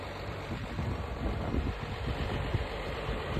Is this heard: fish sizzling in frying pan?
no